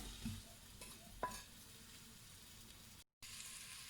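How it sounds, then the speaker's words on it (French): Beef browns in about 20 g of melted butter in a pan for a beef stew, with a soft, steady sizzle and occasional stirring scrapes, faint and close, without speech. "Je vais maintenant le faire revenir dans 20 g de beurre."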